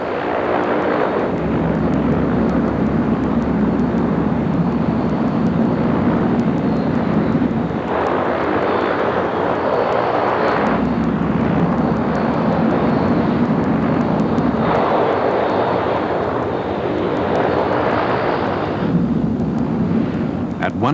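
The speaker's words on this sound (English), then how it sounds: "At 110 knots, Lieutenant Alan Peremba pulls back on the stick and the Orion is airborne" A P-3 Orion patrol aircraft roars down the runway and lifts off, its turboprop engines producing a loud, continuous, broadband rumble that swells and shifts in waves throughout.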